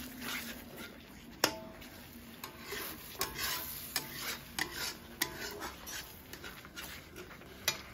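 Food is stirred in a cooking pot, giving repeated scraping, clattering strokes at an irregular rhythm over a faint sizzle, close and moderately quiet.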